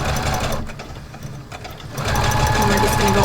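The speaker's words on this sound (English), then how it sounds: "when you get to a corner, you're just gonna pick up your presser foot, turn your fabric, and put your presser foot back down and continue to sew" Rapid mechanical chatter of a sewing machine stitching felt while making a fall wall sign, running, pausing briefly midway, then resuming at full speed, with a voice talking over it.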